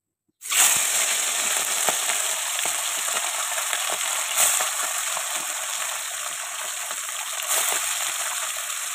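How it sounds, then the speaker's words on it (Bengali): Fish dropped into hot oil in a wok, bursting into a sudden loud, crackling sizzle after a moment of silence, then frying steadily with popping spatters throughout. "তেল গরম হয়ে গেছে, তো আমি মাছগুলো ছেড়ে দেবো।"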